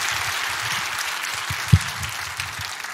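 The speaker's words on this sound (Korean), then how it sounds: "우리 박수 한번 하겠습니다" An audience at a church congregation meeting applauds steadily, a dense even patter of many hands lasting a few seconds at moderate volume, with no talk over it.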